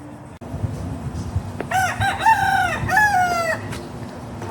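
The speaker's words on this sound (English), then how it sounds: "Look at all the chickens." Rooster crowing several times in a row amid clucking chickens at an outdoor breakfast spot, loud and close over a steady low background hum.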